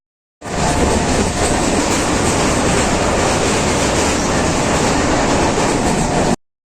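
A passenger train runs along the track, a loud, dense, steady rumble and rattle of wheels and carriages that starts abruptly and holds evenly, with no voices.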